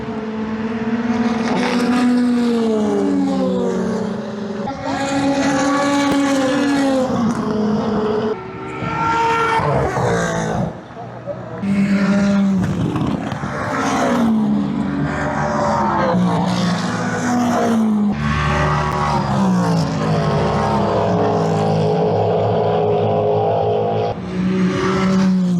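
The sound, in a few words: race cars during Le Mans 24 Hours hyperpole session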